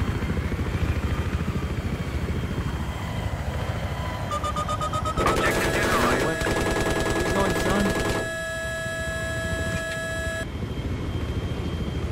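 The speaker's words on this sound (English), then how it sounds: "the other chopper's up" Battlefield 3 helicopter rotor thrum under rapid bursts of gunfire, with sharp tonal whines cutting in midway, loud and busy throughout.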